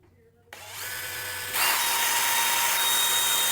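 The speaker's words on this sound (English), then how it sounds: "We need to go ahead and drill a hole also in our lift where the wire is going to come out." A power drill bores a hole through the metal of a four-post car lift, starting abruptly with a steady high whine that grows louder and harsher partway through and runs continuously close up.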